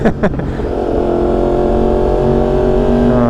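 A Yamaha R1 sport bike's exhaust hums loud and steady from the rider's position while cruising along a road, a continuous engine drone after a couple of brief thumps at the start.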